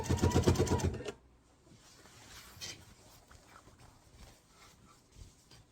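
A sewing machine stitches binding along the edge of a quilt toward a corner, running in one loud, fast, buzzing burst for about a second before stopping and leaving faint handling rustles.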